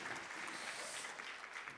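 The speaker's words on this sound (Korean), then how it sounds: "무대 위에서 계속 서 있었던 니은관 디귿에게 큰 박수 부탁드리겠습니다" An audience at a future-society scenario contest session gives a round of applause for a presenter on stage, a continuous, fairly soft wash of many hands clapping with no break.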